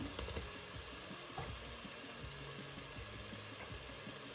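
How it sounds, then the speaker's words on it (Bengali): Chillies tipped into a pan of hot, well-fried spices for a Bengali boal fish curry, giving a steady, loud broadband sizzle throughout with occasional stirring clatter and low rumbling underneath. "এখন আমি কি করব আমি মরিচগুলা দিয়ে দিচ্ছি"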